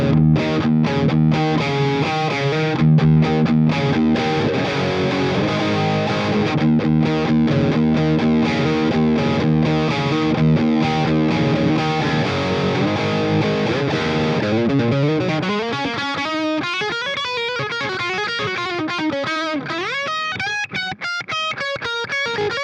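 Electric guitar run through the Valeton GP-200's Bog Blue M amp model, based on the Bogner XTC Blue channel, producing a loud, saturated distorted tone with chugging riffs that give way to singing, bending lead lines, with no talk.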